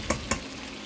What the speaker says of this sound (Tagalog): Haluin natin uli. Ayan na, lumalabas na ang mga mantika.